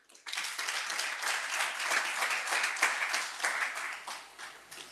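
Applause breaks out at a graduation ceremony as a university leader walks to the podium, many hands clapping in a dense, even patter that starts abruptly and holds steady.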